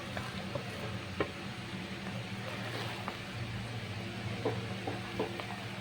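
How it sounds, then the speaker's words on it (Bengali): Paneer pulao stirred in a pot over a low gas flame after fried nuts, raisins and paneer are added, giving steady soft sizzling with scattered light clicks and scrapes of the spoon, close and continuous. "আবারও কিন্তু 4 মিনিট মতো এইভাবে কিন্তু নেড়ে চেড়ে নিতে হবে"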